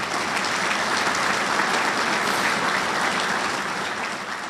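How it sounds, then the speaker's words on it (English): An awards dinner audience for installation and logistics work applauds its sponsors with sustained, dense clapping from a large room, even and full throughout before easing slightly at the end. "a round of applause for our sponsors"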